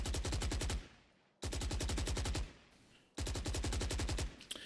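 Three bursts of rapid automatic rifle fire in the Valorant shooter game, each spray lasting under a second with sharp repeating shots, separated by brief pauses and fading tails, loud and close with no talking.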